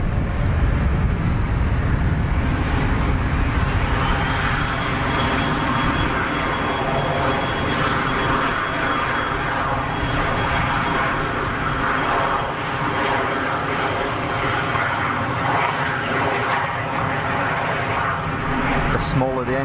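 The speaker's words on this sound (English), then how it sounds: "watch this Embraer, listen for the fast spool up." An Embraer jet at Geneva Airport spools up for takeoff, a loud, steady engine roar with a rising whine that climbs quickly and then holds, running the whole length without a break.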